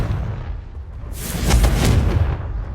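Confringo spell explosion in the Hogwarts Legacy video game, a single loud blast with a crackling burst that swells and then fades, heard alone.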